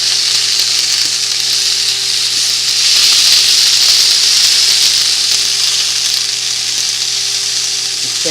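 Asparagus sizzling in a pan indoors, a loud, steady frying hiss with occasional stirring, close up and continuous, swelling slightly midway, with no voices.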